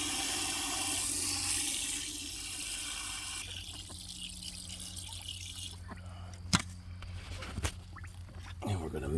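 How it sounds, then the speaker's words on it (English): Water poured into a container of fermenting chicken feed, a splashing gush that thins to trickles and patter, followed by a few knocks and shifting sounds nearby. "we're just going to add a little bit of water"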